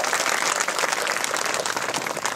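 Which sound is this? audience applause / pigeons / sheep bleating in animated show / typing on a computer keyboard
audience applause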